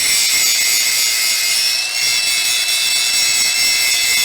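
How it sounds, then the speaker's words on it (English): An angle grinder cuts and grinds steel car parts being made into a bar stool, a loud continuous high-pitched whine held steady from start to finish, close to the microphone. "The grinder makes me the welder I ain't."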